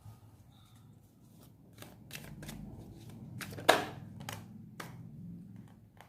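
Tarot cards being shuffled by hand in a quiet room, a series of soft riffling flutters and taps with one sharper snap midway, faint and close.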